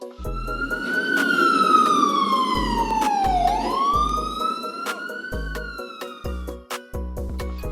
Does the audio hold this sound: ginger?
no